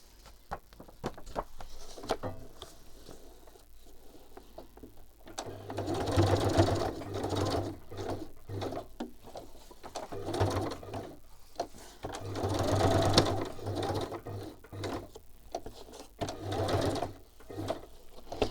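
A sewing machine stitches around pieces of fabric in bursts, its motor running in steady buzzing runs separated by short pauses and handling noises, close and fairly loud.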